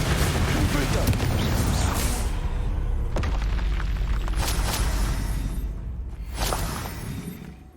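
Confringo explosive spell cast in the Hogwarts Legacy video game, a loud booming blast with a dense rumbling low end that decays over several seconds, followed by fainter bursts.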